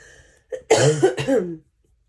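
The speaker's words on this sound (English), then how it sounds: "I am still coughing, by the way" A short burst of throaty coughs, three or four in quick succession, close and fairly loud, followed by silence.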